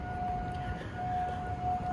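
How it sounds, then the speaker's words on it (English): Tornado warning sirens wail steadily at a distance as a single sustained tone that holds with slight wavering, over a low rumble of wind and background noise. "the tornado sirens are going on around me right now"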